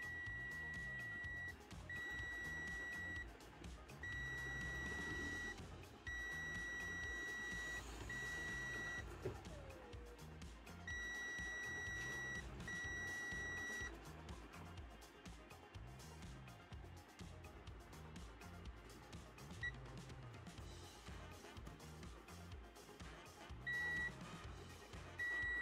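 A multimeter gives repeated continuity beeps while its probes touch a shorted connector for a Dell laptop battery, short steady tones in bursts every couple of seconds, set over a loud, constant background hum.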